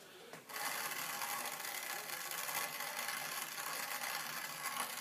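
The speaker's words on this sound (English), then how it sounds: "I'm using this spice grinder here to grind these up" Hand-cranked spice grinder crushing mustard seeds, a continuous gritty rasping crunch that starts abruptly after a brief pause, held at steady loudness close by.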